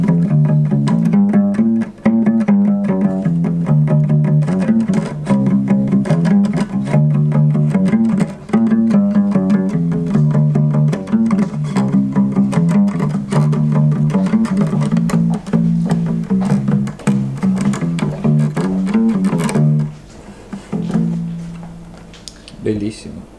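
A German handmade Hofner Federal limited-edition bass, an acoustic hollow body with smooth electric-bass strings, played unplugged in a bouncy twist-style line of plucked low notes that runs steadily, then stops near the end.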